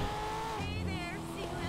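Coquette C7 sports car in GTA Online, its engine holding a steady drone that shifts pitch mid-clip as it accelerates, with someone talking over it.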